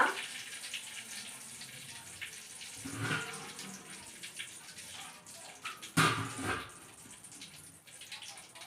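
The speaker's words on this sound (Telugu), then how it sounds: "నీళ్ళు పోసేసుకుంటున్నా" Water is poured into a mixer jar holding curry leaves, giving a soft, faint splashing trickle with a couple of brief louder gushes.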